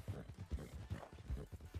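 Horse hooves clip-clop in the RedM (Red Dead) roleplay game, a steady rhythmic trot of soft, muffled beats, quiet and fairly close, with no talk over them.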